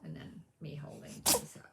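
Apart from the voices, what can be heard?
cat sneezing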